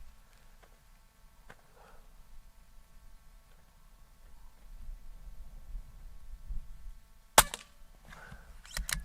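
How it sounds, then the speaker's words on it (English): A DAR .25 Gen 3 air rifle fires over a chronograph, giving a handful of sharp, dry cracks spaced irregularly, with two early ones and a faster cluster near the end, fairly faint against a low, steady room hum. "I'm going to do 5 shots."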